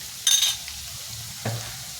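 A spoonful of ginger added to a hot pan while cooking a fish-head muri ghonto brings a brief, bright burst of sizzling, followed by a softer scrape of stirring under a steady low frying hiss.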